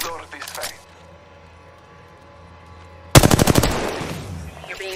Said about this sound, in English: Being aimed at. Opening fire.